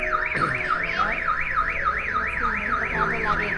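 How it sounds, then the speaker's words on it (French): A car alarm wails nearby in Indonesia in a fast, steady up-and-down warble, loud and continuous throughout, with no voices. "Petit problème de système d'alarme avec la voiture."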